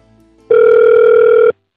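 A telephone call goes unanswered, with a single steady electronic tone lasting about a second that is loud and clean, starting and stopping abruptly against near silence.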